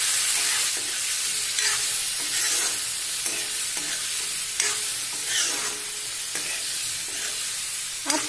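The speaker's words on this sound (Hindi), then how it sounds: "देखिए, हमने चने को भी ऐड कर दिया है और सभी को अच्छे से मिक्स करेंगे।" Chickpeas and masala are stirred in a hot pan for chhole, a constant bright sizzle punctuated by repeated spoon scrapes and shuffles every second or so, close and fairly loud, no voices.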